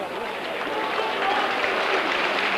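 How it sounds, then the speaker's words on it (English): A crowd at a Leigh versus Widnes rugby league cup match applauds in a dense, steady wash of clapping, with a commentator's voice over it. "But applause for Leigh"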